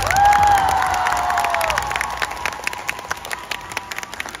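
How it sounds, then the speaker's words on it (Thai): An audience at a fan event claps and cheers, a crowd of hands patting steadily while a high shout or whistle rises over it early on, then the clapping thins into scattered claps. "ขอเสียงปรบมือให้เขาหน่อย"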